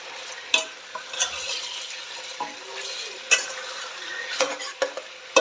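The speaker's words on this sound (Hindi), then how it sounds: "अब इसको अच्छी तरह फ्राई करेंगे।" Chicken being fried and stirred in a pot for a masala handi: a continuous sizzle with repeated sharp scrapes and clinks of a spoon against the metal, fairly close, with no talking.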